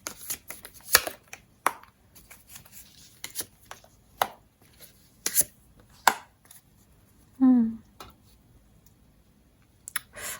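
Tarot cards being shuffled and drawn produce scattered soft clicks, taps and brief riffling sounds at an uneven pace, with one short vocal murmur partway through.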